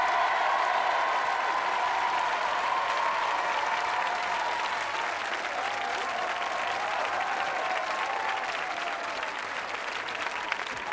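A studio audience at a giant Saturday-night karaoke show applauds the singer with a sustained, dense wall of clapping and crowd noise, loud and even throughout.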